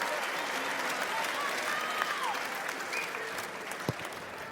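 Steady applause from a rugby crowd at Exeter Chiefs versus Bath as two players walk off the pitch, a continuous wash of clapping from a large stadium audience with a faint voice briefly audible within it.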